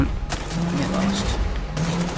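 Gunfire in Wolfenstein: The New Order comes as two sharp, loud bursts of shots around a second and a half apart, with someone talking between them.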